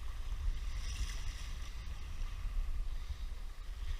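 A small sailboat cuts across windy Saranac Lake, with a steady, full rush of wind and water and low gusty rumbling throughout. No voices are heard.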